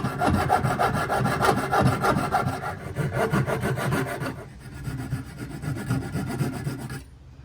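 Steady back-and-forth strokes of cutting and sanding very hard wood for popper fishing lures, close and rhythmic, rasping strokes that shift in tone partway through before stopping.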